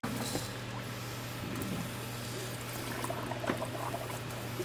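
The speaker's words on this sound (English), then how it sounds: "let's drop the submersible pump in there" A submersible pump draining a residential water heater tank during replacement, a faint steady low hum with soft trickling and gurgling water, no talk.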